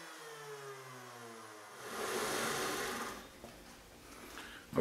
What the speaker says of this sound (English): So we'll start the router up and I'll show you how I do this.